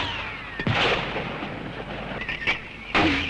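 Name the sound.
heavy American mortar fire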